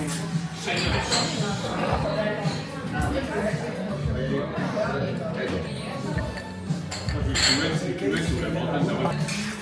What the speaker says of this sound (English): There's still syrup at the bottom, so I might just keep stirring it